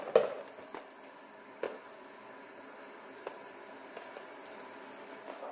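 Water runs steadily from a tap on a slow flow, a soft continuous hiss with a few small splashes and clicks, close by and fairly quiet, with no talking.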